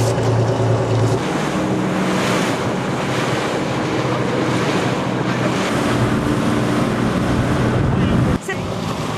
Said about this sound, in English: This is Tidewind Sport Fishing, one of their many vessels, and we're going out ocean fishing.